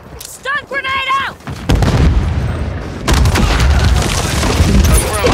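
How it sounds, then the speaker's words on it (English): Multiplayer combat in Call of Duty Modern Warfare III, loud booming explosions and bursts of gunfire rolling in close succession, with someone shouting excitedly over the din early on. "Things are just exploding everywhere!"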